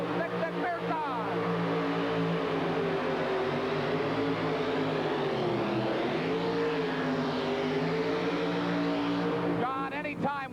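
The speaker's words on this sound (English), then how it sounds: "he's come out with this 1983 Chevrolet pickup truck with a supercharged alcohol burner under the hood" A 1983 Chevrolet pickup with a supercharged alcohol-burning engine roars at full throttle during a truck pull, a loud, sustained engine drone whose pitch bends down and back up across the run, with a commentator's voice faintly under it.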